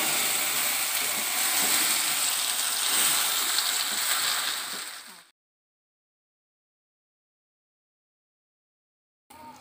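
Carrots tipped into a hot pan of whole spices with bay leaf frying in oil, giving a loud, steady sizzle for several seconds that cuts off abruptly into silence, followed by a brief return at the end.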